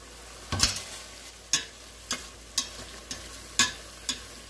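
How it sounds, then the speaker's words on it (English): A spoon stirs beef summer sausage soup in a pot after a bay leaf and basil leaves go in. Six or seven distinct knocks and scrapes spaced about half a second apart stand out over a quiet background. "I'm going to stir this around."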